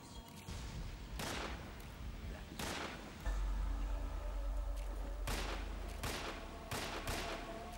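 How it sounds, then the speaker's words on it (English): Gunfire in the Metal Gear Solid 3 Subsistence sewers stage, several loud broadband bursts a few seconds apart over a steady low rumbling game backdrop. "I guess shooting doesn't do anything."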